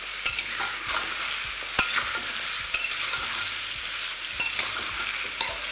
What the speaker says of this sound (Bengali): যা সবজিগুলোকে তেলের মধ্যে ভালো করে ভেজে নিন।